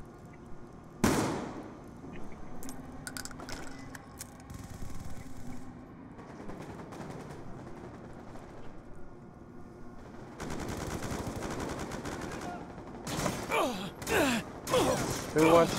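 Gunfire in Call of Duty Black Ops 2 multiplayer, with sharp bursts and rapid volleys of shots, a loud crack near the start and denser firing toward the end, mixed with game noise and some talk.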